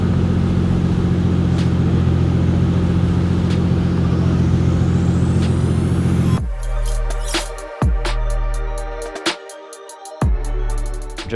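Pagani supercar engine, a loud steady high drone that breaks into a series of sharp revving bursts with pauses between them, close and forceful.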